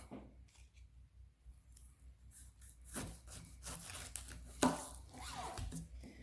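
A kitchen knife cuts the bottom off a fresh pineapple with a few close, crisp crunching slices and scrapes against a quiet background. No one speaks.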